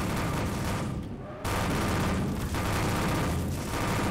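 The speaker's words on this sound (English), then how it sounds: "These guys are going down with bullets." Continuous heavy gunfire mowing down zombies in a sandbox game, a loud unbroken barrage with only a brief dip partway through.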